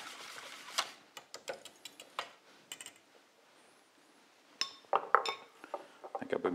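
Beaten egg and dashi are mixed for chawanmushi with light, irregular clinks and taps of a utensil against a glass or ceramic bowl, quiet and close, with brief pauses between bursts.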